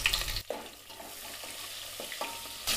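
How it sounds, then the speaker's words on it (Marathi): Sliced onion sautéing for an aloo masoor pulao hisses in a pan, broken by a few spatula scrapes and stirring knocks, with a louder burst of sizzle at the start and again at the end. "हा जो कांदा आहे तो व्यवस्थित असा लालसर होऊन परतवून घ्यायचा आहे।"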